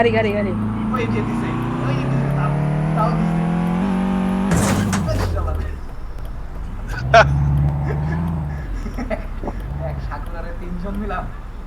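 A car engine in Euro Truck Simulator 2, driven on the Moynamoti to Companigonj route, revs steadily higher for several seconds. A sudden loud clunk follows, then the engine settles into lower, uneven revving with a voice talking over it.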